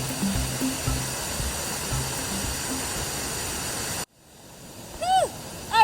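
A high-elevation stream at the bottom of a canyon rushes loudly and steadily for about four seconds, then cuts off abruptly to near quiet broken by a few faint, brief chirps.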